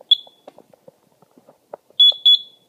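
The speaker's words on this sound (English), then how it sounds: "it creates a short, which makes the buzzer go off" A shrill electric buzzer sounds in short bursts from a J-38 telegraph key: one brief tone, a pause with faint clicks and rustles, then two longer buzzes close together.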